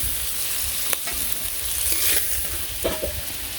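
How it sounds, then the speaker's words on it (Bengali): Sarputi fish fry in hot oil with a dense, continuous sizzle. A few spatula clicks and scrapes sound close by. "তো মাছগুলো আমার ভাজা হয়ে গেছে, নামিয়ে নিই।"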